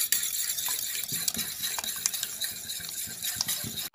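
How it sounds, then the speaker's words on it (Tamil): Beaten eggs seasoned with turmeric, salt and pepper powder being stirred in a bowl, with a steady run of soft clinks and swishes from the utensil against the bowl. "நல்லா mix பண்ணிக்கலாம்"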